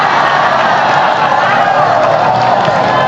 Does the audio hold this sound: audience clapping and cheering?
yes